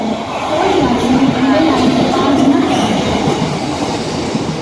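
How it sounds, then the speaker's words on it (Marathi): A Mumbai local train passes nearby with a loud continuous rumble and rhythmic wheel clatter, a faint squeal riding over the roar. "इथनं फास्ट होती का ट्रेन?"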